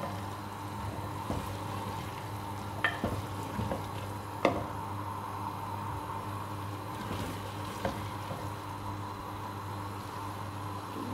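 Minced keema meat fries and sizzles softly in oil in a handi, the oil just beginning to separate, with a low steady crackle broken by a few sharp clinks of a stirring spoon.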